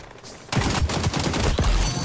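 Rapid gunfire in XDefiant bursts in abruptly after a short quiet lead-in, a dense run of close, loud shots in quick succession.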